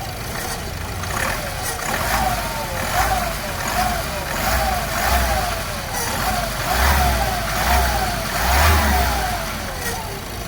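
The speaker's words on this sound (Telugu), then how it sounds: "సార్ రేజ్ చేస్తున్నాను చూడండి సౌండ్," A 2017 Ford EcoSport Titanium engine revs repeatedly, rising and falling in a steady series of close, loud throttle blips with some speech in the background.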